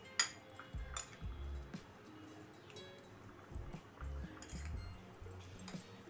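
Utensil clinking against a bowl while mixing a bread snack mixture, a few scattered light clinks among soft stirring and scraping, fairly quiet and close.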